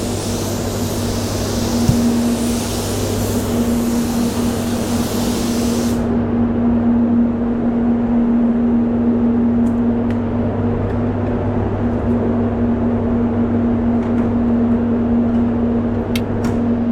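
A paint spray gun lays down a thin coat, giving a loud, steady hiss that stops abruptly about six seconds in. A low compressor hum drones on underneath, joined by faint scattered clicks.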